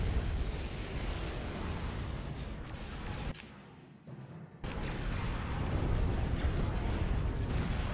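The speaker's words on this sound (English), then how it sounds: "Get a bunch of long range artillery fire." Long-range artillery fire in Star Wars: Empire at War booms as a heavy, continuous roar of blasts. It drops into a brief lull midway, then surges back louder.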